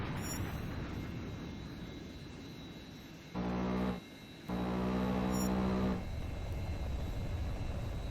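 Steady roar of a jet aircraft in the flight combat game HAWX 2, flying a patrol circuit in a training area, with a continuous engine hum and two brief louder tonal swells partway through.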